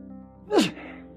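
One quick, sharp sneeze, close and fairly loud, with a short breathy burst and nothing else around it.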